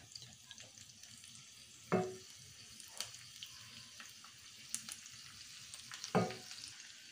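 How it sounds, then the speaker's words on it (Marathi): Spices tempering in hot oil for rava dhokla make a steady sizzle with soft crackles, plus a few sharp louder pops that stand out from the frying noise. Nobody speaks. "तडका ना छान तडतडायला हवं आहे ना आपण ही फोडणी ढोकळ्यावरती घालणार आहोत"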